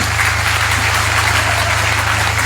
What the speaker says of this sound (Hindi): इसलिए लोगों ने ताली बजाया